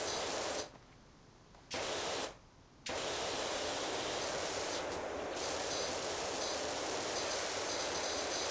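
Pressure washer spraying in PowerWash Simulator, a steady loud hiss that cuts out twice briefly near the start before running continuously.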